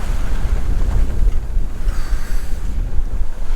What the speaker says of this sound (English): now the waves have picked up again